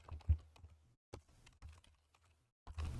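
Someone typing programming code on a computer keyboard, producing a few scattered keystroke clusters with pauses between them, close and fairly soft, with no talking.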